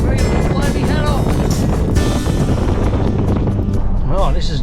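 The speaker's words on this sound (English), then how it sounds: "Just to show you guys how windy it really is." Loud, strong wind buffets the microphone with constant roaring gusts on the Barry Way in Australia, and a voice is heard briefly near the end.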